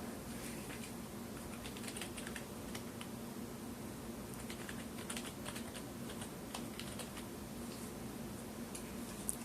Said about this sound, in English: I'm going to type convert space GPT